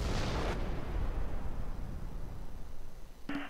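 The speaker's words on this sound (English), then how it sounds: "really love looking at these explosions. They look very awesome." Explosions in the WWII strategy game Close Combat: Gateway to Caen: a loud blast opens and rolls into a long, low decaying rumble, then a sharp second burst comes near the end. No speech.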